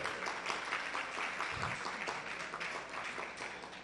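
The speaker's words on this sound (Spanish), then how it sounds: "Por favor, un fuerte aplauso para ella." Steady applause from a conference audience welcoming Dr. Ingrid Piedra, a dentist speaking on botulinum toxin and platelet concentrates, a dense even wash of many hands clapping that holds throughout at moderate distance.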